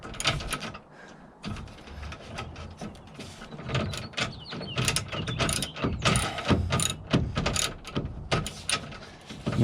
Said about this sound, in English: it took you 15 minutes to ratchet it down